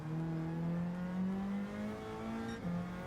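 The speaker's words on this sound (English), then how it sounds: "This engine sounds like its muffler is a fuzz pedal" Car engine in Gran Turismo 7 holding a buzzing, fuzzy exhaust note as revs rise slowly and step up once near the end, loud and steady throughout.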